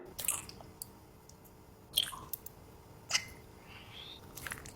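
Clear edible slime is eaten up close, with a few soft, wet squishing bites spaced a second or so apart against a quiet background.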